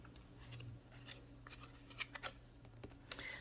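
A deck of Intuition Oracle cards is shuffled by hand, giving soft papery riffles and light flicks close by, with sharper taps near the end and no voices.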